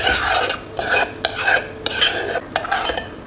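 Butter is stirred into a hot glaze in a saucepan, giving steady scraping, swishing strokes in a regular rhythm with a faint sizzle underneath. No voices.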